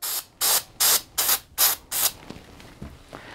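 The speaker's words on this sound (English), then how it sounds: "I can spray this down with Magnum Force 2" An aerosol can of Magnum Force 2 cleaner sprays onto the label of an old game cartridge in six short, even bursts, close and crisp, followed by faint handling noises.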